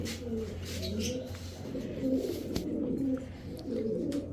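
Pakistani Kamagar, racer and Giribaz pigeons coo in low, rolling, throaty phrases that repeat and overlap from nearby birds, over steady background noise and a few faint high chirps.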